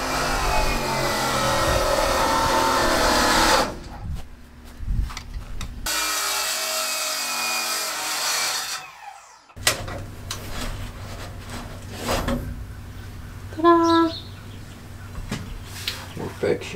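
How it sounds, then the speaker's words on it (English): An angle grinder smooths aluminum ceiling brackets inside an ambulance being converted, in two loud sustained bursts of harsh grinding separated by quieter gaps, with faint voices and clatter in the later part. "We just grind these smooth."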